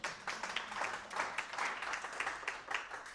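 An audience claps steadily, a dense burst of many hands that swells and holds without pause, fairly loud and close.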